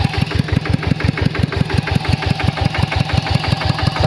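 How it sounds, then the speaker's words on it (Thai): A walk-behind tractor engine chugs steadily while ploughing a rice field, its rapid regular thumping pulses loud and close, with no voices over it. "อันนี้จะเป็นรถไถ"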